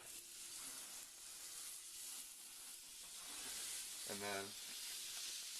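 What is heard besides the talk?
burger patties sizzling in a frying pan with diced onions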